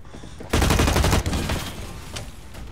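A single loud burst of rapid automatic gunfire lasting under a second rings out in the online shooter Blacklight Retribution, followed by a fading echo and softer background game noise.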